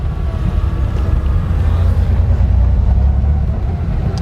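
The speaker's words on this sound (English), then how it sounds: "I love the sound of the engine." Porsche 911 (930) Turbo engine droning steadily from inside the car while driving, a loud continuous low rumble with road and wind noise, no pauses or revs standing out.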